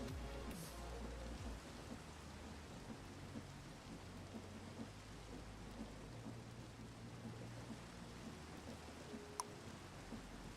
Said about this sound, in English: Can I sleep now to get rid of this stupid rain?